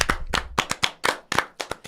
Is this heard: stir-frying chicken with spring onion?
no